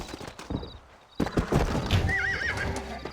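A horse in the Red Dead Redemption video game lets out a loud, close whinny, with hoof clip-clops and other game sounds around it.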